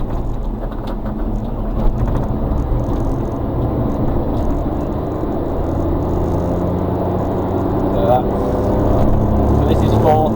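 A 1993 Suzuki Carry 4WD kei truck with a five-speed gearbox cruises in fourth gear at about 40 mph, giving a steady low engine drone and road rumble from inside the cab, with talk over it.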